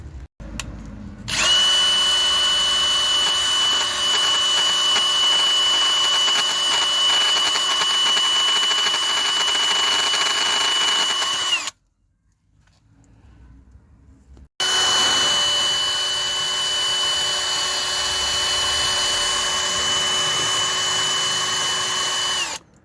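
A power grinder runs loud and close against a surface with a steady high whine, stopping for a few seconds midway and then starting again at full speed.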